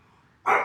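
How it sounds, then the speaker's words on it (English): A dog barks in the background, one loud, fairly close single bark that bursts in abruptly after a near-silent stretch and rings briefly before fading. "that's my dog barking in the background"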